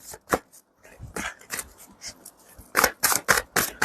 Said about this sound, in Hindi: फिर से शफल करते हैं।